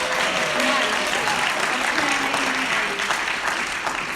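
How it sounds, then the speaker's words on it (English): Audience applause at a talk, a steady dense wash of clapping held for several seconds with some voices mixed in. "can I just give Mark a round of applause?"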